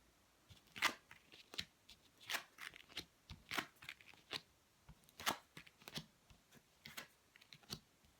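Mythic Tarot cards are shuffled by hand in soft, irregular bursts of riffling and slapping, quiet and close, with no talking.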